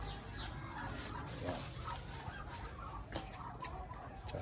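Chickens cluck softly and intermittently over a faint, noisy outdoor background, with no voices.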